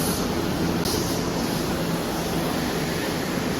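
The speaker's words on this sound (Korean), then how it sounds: "특급 급행 열차를 타고 있습니다." Steady, loud rumbling of a Japanese limited express train near Fukuoka fills the whole stretch, a continuous rushing roar of a moving rail car with a faint high whine above it.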